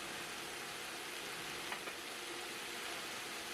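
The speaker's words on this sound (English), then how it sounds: "Saute the mushrooms and add salt to enhance the flavor." Mushrooms sizzle and fry steadily in oil in a hot pan, a constant crackling hiss with a couple of faint clicks.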